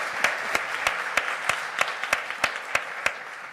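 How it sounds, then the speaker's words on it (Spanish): Audience applause at a 2018 presidential debate as two children are welcomed to the stage: a steady wash of clapping with sharp, evenly spaced rhythmic accents running throughout. "Un fuerte aplauso, por favor."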